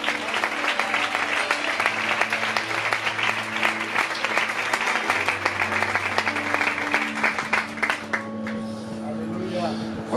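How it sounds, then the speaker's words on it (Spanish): A church congregation applauds in a steady, sustained wash of clapping that holds for about ten seconds, fairly loud and even, with some sustained musical tones underneath and the clapping thinning toward the end. "Regálale este aplauso al Señor."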